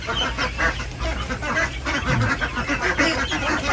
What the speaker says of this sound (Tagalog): Si Gansa ang kanilang tagabantay dito. Maingay kasi yan.